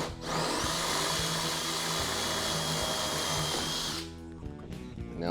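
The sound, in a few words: drilling out a rusted bolt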